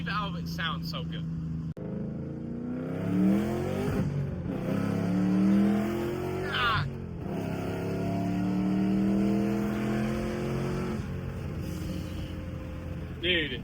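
Boosted 4.6-litre 3-valve Ford Mustang with a Paxton supercharger accelerating hard, its engine note rising and falling through several pulls, loud and close, with people talking over it.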